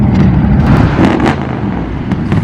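A Morgan car pulls away from a car meet, its engine note close and steady with a slight rise in revs, alongside a lively idling background.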